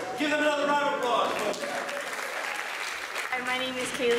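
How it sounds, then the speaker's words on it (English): A college audience claps for a hypnosis show, a continuous wash of applause with a voice speaking over parts of it, especially near the start and end. "Give them another round of applause."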